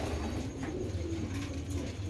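Sialkoti pigeons coo steadily and close by, a soft continuous cooing over a low background hum, with no one speaking.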